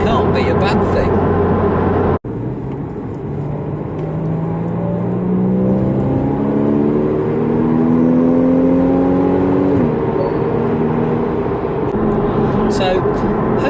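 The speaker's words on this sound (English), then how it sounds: "the fantastic noise it makes, it seems to me that the Cayman is a German car that actually feels Italian" A Porsche Cayman driving, its engine note rising through the gears in smooth climbing sweeps, loud and close from inside the car, a brief cut early on and no talk over it.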